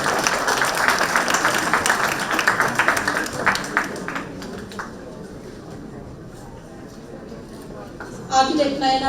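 Audience clapping at a sustainability architecture summit, a lively burst of applause for the first few seconds that thins out and fades, followed by a quiet stretch and a brief voice near the end.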